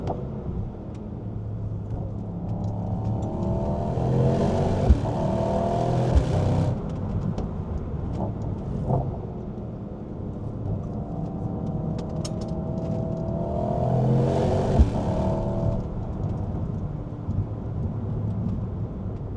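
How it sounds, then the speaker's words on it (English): Mercedes-AMG GT63 Coupe engine and exhaust under acceleration, climbing toward high revs in two long, rising surges separated by a lull, a rumbling drone with rushing road and wind noise, heard from inside the car. "Definitely get the sense immediately there's some fake exhaust sound or fake engine noise"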